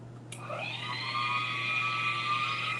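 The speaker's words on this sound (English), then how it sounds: "But I have a blender. So I'm going to use it." A kitchen blender whirs steadily as it purees sweet potato pie filling, starting abruptly and holding a sustained, fairly weak motor whine close by with no talk over it.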